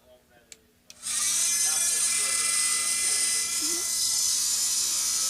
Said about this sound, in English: I have a little vacuum cleaner here.